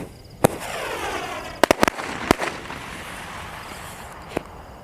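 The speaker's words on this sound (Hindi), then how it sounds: "और ये चल रहा है हमारे अनिल के 7 शॉट" An Anil brand 7-shot Diwali firework is set off, giving a string of sharp cracking bangs heard from a short distance outdoors, some spaced apart and a tight cluster in the middle, each with a crackling tail.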